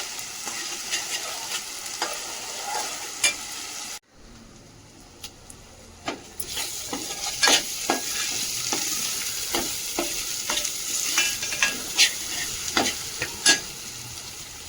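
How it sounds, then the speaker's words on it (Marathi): Spices and mutton sautéing in mustard oil while being stirred with a utensil: steady close sizzling and frying with repeated sharp scraping and tapping strokes against the pan, briefly dropping out once before resuming. "परतून घेते मसाले सर्व."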